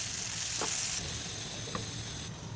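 Mixed vegetables for a vegetable biryani cooking in a pan, a steady soft sizzle and frying hiss throughout, with a couple of faint stirring clicks and no talking.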